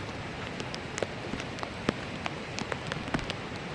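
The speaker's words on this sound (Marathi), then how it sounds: "पाऊस पण बारीक चालू आहे" Light monsoon rain falling near a waterfall in Radhanagari, a soft steady hiss dotted with scattered close drip and patter ticks, with no voices.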